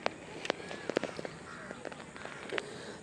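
Crows cawing near a quiet river beneath a bridge, several sharp calls scattered over faint outdoor background.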